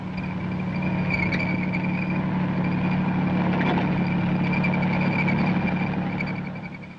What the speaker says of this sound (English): Its 450 horsepower diesel engine sustains a cruising speed of 35 miles per hour and a range of 220 miles.